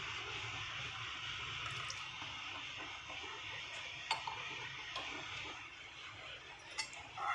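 White water poured into wheat for payasam in a pot, a soft continuous splashing trickle with occasional clinks of utensils, fairly quiet and close.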